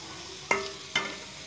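Beef fries in hot ghee for a restaurant-style nihari, with a steady sizzle punctuated by two distinct stirring scrapes in the pan, close and moderately loud.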